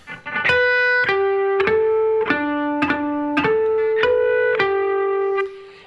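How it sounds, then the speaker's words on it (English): An electric guitar plays lick 3 of a song in bell-like harmonics, about nine ringing chime notes in a steady rhythm, each sustaining into the next, close and clear with no speech. "Lick 3, he plays some harmonics."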